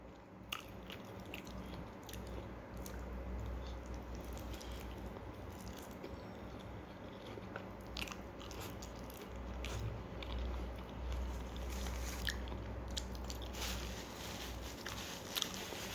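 Someone eats freshly cooked food, with steady close chewing and biting plus occasional crunches over about sixteen seconds, fairly quiet with no talking.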